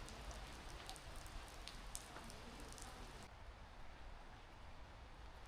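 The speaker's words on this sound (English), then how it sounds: "I can just sit here and listen to the sound of the rain" Steady rain falling at Zhongshan Mountain during plum rain season, a dense, even patter with occasional louder drops, continuous throughout with no voices.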